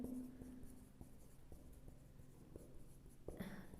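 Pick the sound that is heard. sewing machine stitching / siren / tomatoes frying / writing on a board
writing on a board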